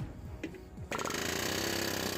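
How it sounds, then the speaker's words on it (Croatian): A pneumatic air hammer starts up in an auto repair setting where seized brakes are being worked on, its rapid loud chatter running steadily and close after a brief quieter lead-in. "I to mi je taj zračni čekić."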